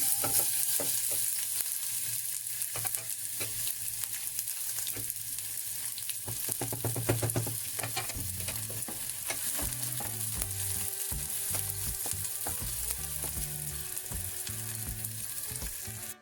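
Onion frying in a pan with butter, a loud, steady close sizzle with spoon scrapes and clatter of stirring running through, with low tonal hum in the background.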